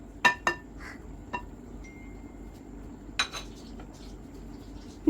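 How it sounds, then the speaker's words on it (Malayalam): Cooked rice is ladled into a heavy pot while layering a home-style chicken dum biryani, giving a few sharp metallic clinks of spoon against the pot, spaced irregularly and separated by quiet gaps. "അപ്പോൾ നമ്മൾ ചോറ് കോരിയിടുവാണ്. പകുതി ചോറ് നമ്മൾ ഇട്ട് കൊടുക്കുന്നുണ്ട് കേട്ടോ."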